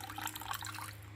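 Rum being poured into a sweet potato pudding mix gives a faint, continuous liquid trickle and splash, heard alone in a quiet kitchen.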